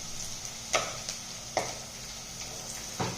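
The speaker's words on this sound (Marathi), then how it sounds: "मीडियम सोनेरी कलरवर कांदा भाजून घ्यायचा आहे।" Onions fry in oil, cooking toward a medium golden colour, with a steady close sizzle broken by a few sharp stirring scrapes.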